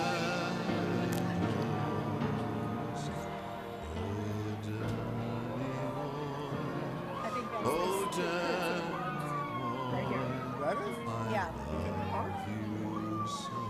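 A Tinley Park Fire Department truck rolls by in an Irish parade, its siren wailing in rising and falling sweeps over crowd noise and a voice talking.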